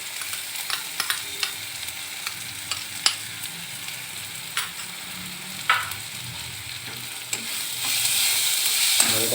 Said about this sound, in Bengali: কষিয়ে নেওয়ার পর এবার আদা রসুনের পেস্ট দিয়ে দিচ্ছি।